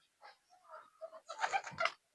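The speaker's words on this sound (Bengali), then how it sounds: "এবার একটা নর পায়রা দেখাচ্ছি আপনাদের" A male pigeon at a loft coos in a few short, soft murmuring calls, rising to a fuller burst of cooing near the end, close by and quiet.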